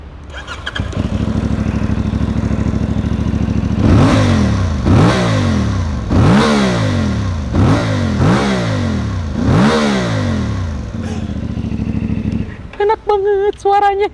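A CFMOTO 450MT motorcycle engine idles, then revs hard about six times in quick succession, each rev rising and falling, loud and close, before settling back.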